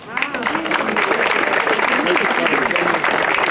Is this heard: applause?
yes